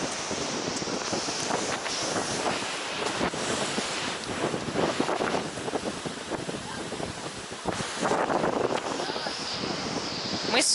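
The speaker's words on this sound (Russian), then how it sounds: "Так потому что сильно прям вода разливается по песку." Baltic Sea waves at Zelenogradsk wash strongly over sand, making a continuous surf roar with surges and heavy wind buffeting on the microphone.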